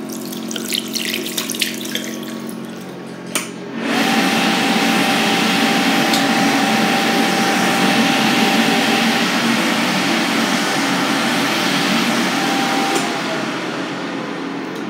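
A Warner Howard Electric Aire LE 48 electric hand dryer in a café washroom switches on with a loud, steady whooshing blast of air and motor whine that runs continuously for about nine seconds before cutting off, preceded by quieter room noise.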